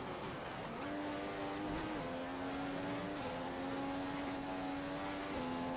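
Formula 1 race cars in the F1 2015 video game at the Australian Grand Prix in Melbourne, engines droning at steady high pitch with gear-shift steps and passing whines, loud and continuous, no talking.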